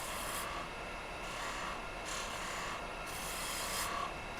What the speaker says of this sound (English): I like to go ahead and take my skew and just clean off that area there